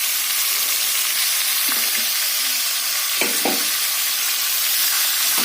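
Chicken kosha fries in a pan with a loud, continuous sizzle, broken by a few brief scrapes of a spoon stirring the meat.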